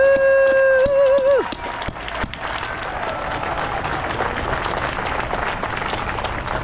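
An audience at a healthcare advocacy event applauds with steady, dense clapping that follows a brief whistle-like tone and a few sharp claps, close and fairly loud, continuing to the end.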